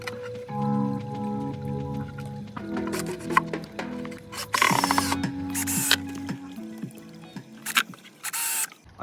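A power drill drives screws through a decking board into patio pond trim, several short whirring bursts with pauses between, close and fairly quiet.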